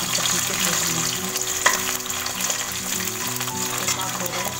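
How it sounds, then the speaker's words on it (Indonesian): Spice paste for a sweet potato leaf and bean lodeh frying in a pan, a steady loud sizzle with occasional stirring scrapes and clinks throughout. "Bunda mau goreng dulu bumbunya biar sedap ya."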